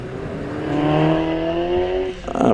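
A Mazda MX-5 race car accelerates away up a hillclimb course, its engine note climbing through gears as it pulls off, loud at first then fading, with a burst of crowd or wind noise at the end.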